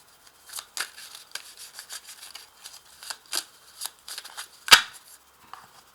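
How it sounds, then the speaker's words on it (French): Oracle cards drawn from a small box, heard as soft, close papery shuffling and rustling in short bursts, with one sharper snap near the end, quiet and with no talking. "Dans cette petite boîte, on va tirer une petite carte."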